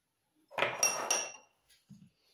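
Carrot cake batter being mixed in a bowl, a dense clatter of a utensil knocking and scraping for about a second, then a couple of soft taps, with no talk.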